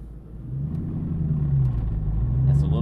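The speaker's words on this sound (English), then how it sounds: "if you get the clutch kind of warm, like sitting in traffic, you will definitely notice it starts to really chatter" McLeod RST twin disk clutch in a Terminator Cobra, shuddering with a low, uneven chatter over steady engine rumble as the car creeps along, alone and fairly loud throughout.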